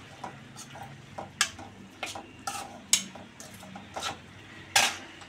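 Metal spoon scraping and clinking against a pan while curry with chili powder and spices is stirred, giving several sharp, separate strikes over a faint background hum, close and fairly quiet.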